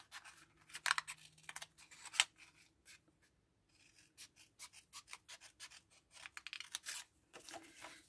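Scissors snipping paper tabs for an Easter basket craft, a series of short crisp cuts and rustles in irregular bursts with a pause partway through, close and fairly quiet.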